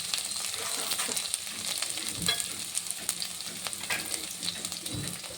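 Finely chopped garlic sizzles and fries in hot oil in a pan, a steady crackling hiss broken by occasional stirring scrapes, close and moderately loud with no talk.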